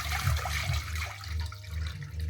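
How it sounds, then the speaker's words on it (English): Water pours steadily into a medium-sized sauce pot, a brief, soft splashing gush that continues evenly to the end. "We're going to start by pouring in enough water in a medium-sized"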